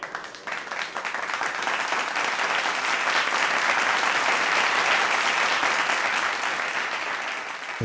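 Sustained applause from a television studio audience during a music competition show, steady and dense clapping that swells and holds for several seconds.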